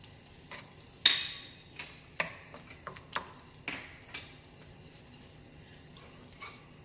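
Softened cream cheese worked into a smoked-paprika mac and cheese sauce in a pan, a series of soft sticky taps and scrapes from a spoon at irregular intervals, quiet and close.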